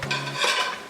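Broccoli tumbles into a cooking pan with a short clatter of metal and utensil scraping, close and brief, no speech over it.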